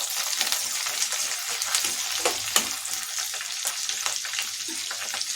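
Curry leaves sizzle and crackle in hot oil in a pan while being stirred for a quick noodle snack, a loud continuous frying hiss with occasional sharp pops and scraping.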